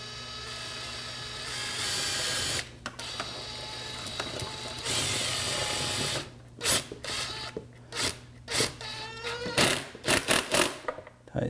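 A tool with a socket tightening a bolt on a Honda Civic: after a steady mechanical hum, a run of short close ratcheting clicks and scrapes comes in uneven bursts.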